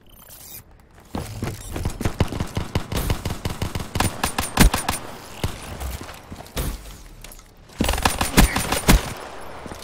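Repeated pistol and weapon fire in a Black Ops 3 gun game match, with quick bursts of sharp shots in uneven clusters, some very close and loud, with a few quieter gaps between them.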